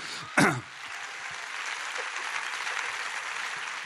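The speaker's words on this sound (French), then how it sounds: "La famille Tordiol, applaudissements à nouveau pour eux" Audience applause for the Tordiol family at a talent awards final in Vendée: a brief loud cough or throat-clear at the start, then an even, sustained patter of many hands clapping at moderate volume.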